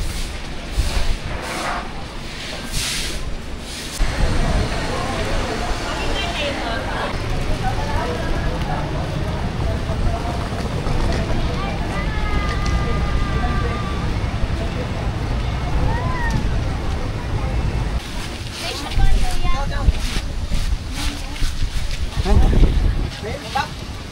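Strong wind roars steadily across the microphone on a rainy Boracay beach, with surf and beach noise underneath and occasional voices in the background.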